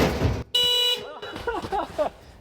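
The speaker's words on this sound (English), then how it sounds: "I do like the duration of the honk" Car horn alarm in the video game Building Everstoke blares as a steady tonal honk for about half a second, cutting off abruptly, followed by someone talking.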